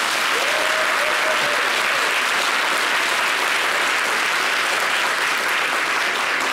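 Studio audience at a French-language television talk show bursts into loud, sustained applause and cheering that fills the whole stretch at an even level, with no talk over it.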